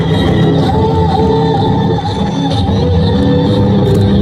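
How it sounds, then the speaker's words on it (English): Loud, continuous crowd noise with cheering, whoops and shouts for students at a school annual athletics meet, a dense sustained roar with scattered sharp calls. "Good round of applause"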